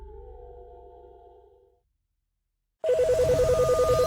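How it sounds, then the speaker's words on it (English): A telephone rings in a fast, steady warble of electronic tone pulses, loud and alone, starting abruptly after a short silence that follows a fading low tone. "the NASA hotline is ringing off the hook"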